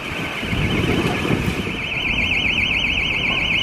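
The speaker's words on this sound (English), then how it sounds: "Sorry about the alarm going off in the distance" A distant alarm at Elstree Studios, a steady high electronic tone that begins wavering in a rapid warble, sounding continuously over outdoor background noise.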